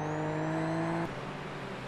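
Race cars at Spa in a racing video game: a loud, close engine whine holds steady for about a second, then drops abruptly to a lower, rougher drone as the car passes.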